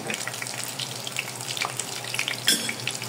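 Fish frying in a pan with a steady crackling sizzle, loud and continuous with popping spatters throughout.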